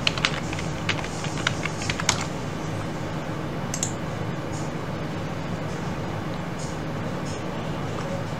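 Steady typing on a computer keyboard, a continuous patter of quick key clicks with a few sharper taps early on, close and moderately loud with no voice over it.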